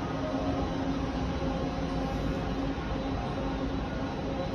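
A TTC subway train at Kennedy Station gives a steady, continuous rumble and hum with faint tonal whine, sustained at moderate level with no voices.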